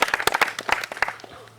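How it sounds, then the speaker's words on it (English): A gathering in Uganda claps for General Kahinda Otafiire, a short burst of scattered hand claps, fairly close and uneven, fading out after about a second. "I request whoever is around to clap for General Kahinda"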